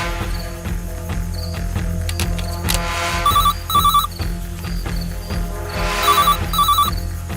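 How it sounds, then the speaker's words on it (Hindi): In a Hindi dubbed action film scene, a telephone rings in two bursts of rapid electronic trills over steady background music. "फोन उठाना।"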